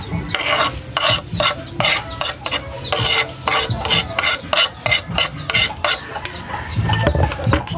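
Dried squid being crushed together with onion and garlic: rhythmic rasping, grinding strokes repeat steadily at close range, with no voices.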